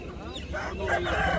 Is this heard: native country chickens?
yes